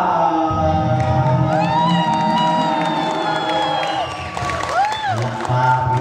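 An audience at a barangay fiesta celebration in GenSan cheers, whoops and claps for comedians in a loud, sustained crowd roar, while an amplified voice speaks over the noise.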